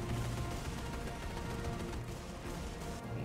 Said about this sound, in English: Concentrate AA fire on those capes.